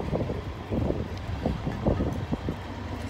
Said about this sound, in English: It has really gotten windy in the last hour or so.